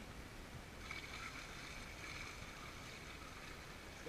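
Water is poured from a bucket into a filter box in Peru, a continuous, even rushing splash that runs steadily for about four seconds at low volume with no voices.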